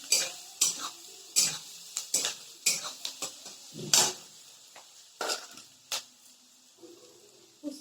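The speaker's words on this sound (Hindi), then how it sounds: "इसमें देखिए प्याज और कच्चे मिर्ची दोनों को फ्राई कर देते हैं।" Onions and green chillies frying in a pan, heard as a run of sharp metallic scrapes and taps from a spoon stirring against the pan, close and fairly loud, over a faint sizzle, with no talking.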